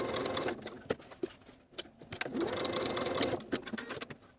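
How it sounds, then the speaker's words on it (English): A sewing machine stitching a garment seam in short bursts, its rapid mechanical patter starting and stopping, fairly quiet and close with no talk over it. "take it back to your sewing machine and sew along the stitching line"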